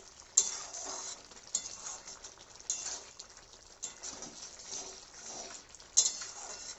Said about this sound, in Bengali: জিরে মরিচের গুঁড়োটা দিয়ে নাড়াচাড়া করে